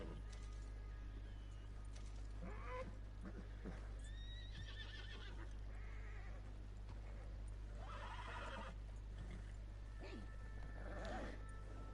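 A horse whinnies repeatedly in the video game Red Dead Online over a constant low hum, with hoof clip-clops and other animal bleats scattered throughout.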